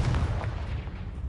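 A Confringo blasting spell cast in Hogwarts Legacy, a single deep booming burst that rolls off quickly, close and loud with no talk.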